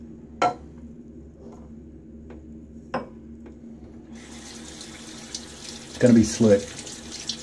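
Tap water runs into a bathroom sink during a shave, a soft continuous stream under a man's brief speech. It is punctuated by a couple of faint knocks and then two louder splashes as water is cupped onto the face.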